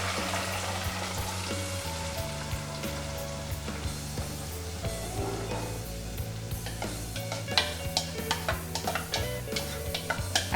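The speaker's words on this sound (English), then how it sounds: "So now my onions are already frying." Steady sizzling of onions and peppers frying in hot oil for a buka stew, a continuous crackle with occasional sharper pops and clinks toward the end.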